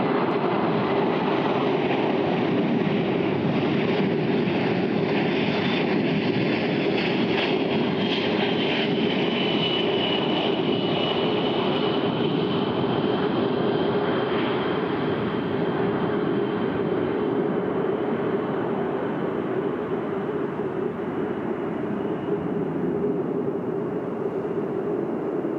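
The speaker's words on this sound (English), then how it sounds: "The aircraft will next maneuver to demonstrate a full flap approach to a simulated short field runway." A C-17 Globemaster III military transport jet flies at an air show, a loud continuous engine roar with broadband rumble and a faint whine, steady throughout and slowly easing as it passes.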